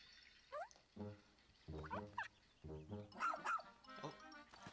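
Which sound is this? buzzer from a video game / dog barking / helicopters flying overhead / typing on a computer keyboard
dog barking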